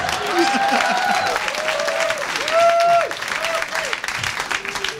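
Loud, sustained applause from a live comedy audience in Zurich, a dense wash of many hands clapping with a few cheers, while a voice talks over it.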